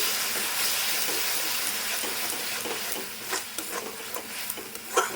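Egg curry masala cooks in a pan over a low flame, a broad steady hiss with soft scraping stirs growing more frequent toward the end, close and moderately loud, no voices.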